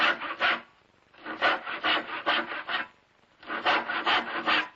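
A hand saw cuts through wood in three bursts of steady back-and-forth rasping strokes, close and fairly loud, separated by short pauses.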